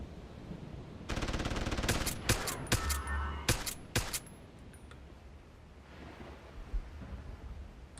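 Gunfire in Deus Ex: Human Revolution, a rapid automatic burst followed by several sharp separate shots, loud and close, then fading into a low ambient hum with a few distant thuds.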